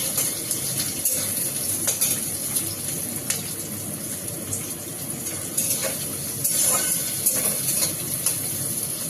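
Spices stirred and fried in hot oil: a continuous bright hiss and sizzle with occasional scraping clicks of the stirring, steady and close, no speech.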